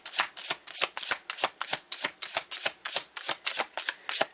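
Tarot cards riffle-shuffled by hand in quick repeated bursts, about a dozen crisp flutters in steady rhythm, close and loud with no talk.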